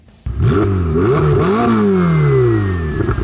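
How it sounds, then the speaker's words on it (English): A flat-plane crank V8 from a Lamborghini revs hard and close, its pitch climbing and falling in quick blips before one long rising rev that trails off, loud and alone. "First off, it's a flat plane crank engine,"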